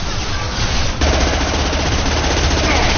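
Sustained automatic gunfire from a Mass Effect 2 firefight, dense rapid bursts that grow louder and fuller after the first second and continue without pause.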